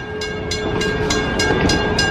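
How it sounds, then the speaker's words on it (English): Amusement park train ride at Clark's Bears in New Hampshire passing close by, with steady rhythmic clickety-clack from the wheels repeating about every third of a second over a constant rolling rumble and a faint tonal hum. "Here's the train ride."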